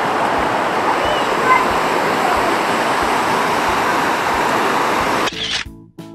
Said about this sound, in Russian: Все, посмотрели мы на водопад